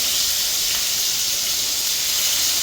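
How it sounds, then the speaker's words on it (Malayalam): Chicken leg pieces frying in boiling oil, a loud, continuous, even hiss close by with no other sounds. "എണ്ണ തിളക്കിട്ടോ മാറി നിൽക്കണ നല്ല നമുക്ക് ചിക്കൻ അങ്ങനെ പൊരിച്ചെടുക്കാം"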